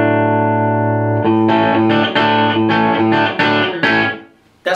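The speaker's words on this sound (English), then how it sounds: "That's finger picked and it's very Telecaster sounding." Finger-picked electric guitar with a Telecaster-like twang runs through the rhythm channel of a Megatone Vostok amp, gain at noon: a sustained chord followed by a series of plucked chord hits, loud and close, ending abruptly.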